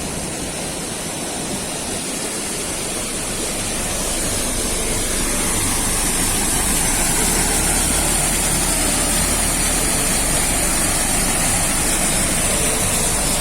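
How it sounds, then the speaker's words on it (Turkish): A waterfall in Aladağlar National Park near Yahyalı, Kayseri, where water bursts out of the rock face, gives a loud, steady broadband roar heard close up with no voices. It swells slightly after the first few seconds. "Kuruma, kuruyanları saymazsak bu beşinci şelale oluyor."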